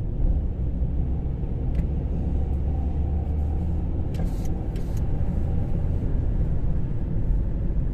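Steady low road rumble of a car driving through a residential area of private houses and five-story apartment blocks in Krasnodar, Russia, continuous and fairly loud throughout, with a few faint higher clicks.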